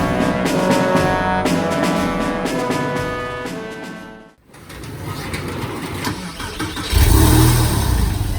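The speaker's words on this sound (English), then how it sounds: "how the cheapest Porsche 911 Carrera Coupe in the United States" A Porsche 911 Carrera Coupe of the 996 generation is heard from inside while driving. The mid-pitched engine drone rises and falls through gear changes, then dips briefly before a louder, deeper surge of acceleration near the end.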